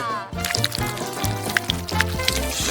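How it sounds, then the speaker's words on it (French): Hot Nesquik cocoa pours in a steady splashing liquid stream, close and fairly loud, with a brief gap near the start. "Une bonne douche au chocolat."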